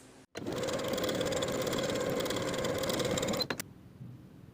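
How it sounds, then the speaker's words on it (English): A sewing machine runs steadily for about three seconds as it top stitches a seam allowance on a colorblock garment, a close, even mechanical whir that starts and stops abruptly with a short pause afterward. "Now we'll top stitch the seam allowance in the same way as we did for the top bodice pieces"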